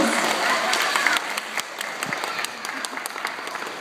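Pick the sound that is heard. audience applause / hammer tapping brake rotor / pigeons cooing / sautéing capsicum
audience applause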